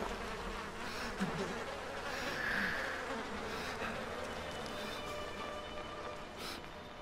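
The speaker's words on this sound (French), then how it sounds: "Et vos gueules, les mouches." A persistent insect drone of buzzing flies in the video game Outlast 2 fills the scene, fairly quiet but steady, with a brief louder whine in the middle and a dull ambient rumble beneath.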